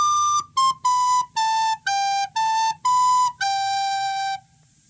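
A recorder plays the first line of Deck the Halls, eight clear separate notes in a bouncing rhythm, with the last note held longest. It is close, bright and alone, with no talking.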